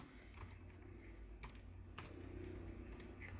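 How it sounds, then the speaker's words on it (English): Fingers tap a computer keyboard one-handed in quiet, uneven bursts of soft clicks, close but faint over a low background hum, with nobody speaking. "I'm typing with one hand because I broke my tripod"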